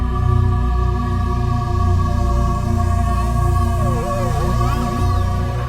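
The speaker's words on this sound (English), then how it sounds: "That was the sound of plasma within the solar wind from the Sun." Sonified solar wind plasma streaming from the Sun forms a continuous eerie drone of layered steady tones over a rumbling low wash, with wavering, swooping pitches near the end.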